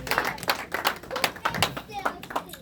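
A church congregation claps in praise during a Sunday worship service, a run of fairly quick, uneven claps carrying on throughout with voices mixed in underneath.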